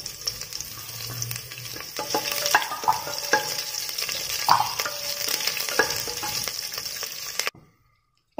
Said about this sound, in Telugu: పచ్చిమిర్చి వేగిపోయాయండి.